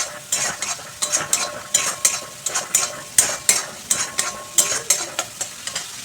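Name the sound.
sautéing spices with turmeric, chili powder and salt in a pan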